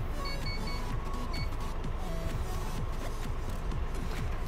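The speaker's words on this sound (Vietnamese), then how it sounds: "Cửa kính điện một chạm." One-touch electric window motor in a Hyundai Universe coach, running as a steady mechanical whir for a few seconds inside the cabin, with faint clicks and no talking.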